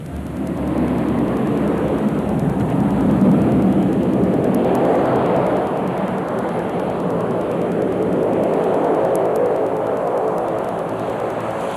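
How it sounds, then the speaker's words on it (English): A plane landing on Barra's Cockleshell Beach, a broad continuous rumbling roar that swells and holds steady at moderate distance, with no talking. "visitors to the island want to visit the airport to see the plane land on Barra's famous"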